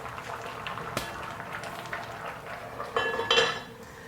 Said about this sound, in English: after scooping your egusi paste and dropping in the pot, cover up your pot to boil for approximately 10 minutes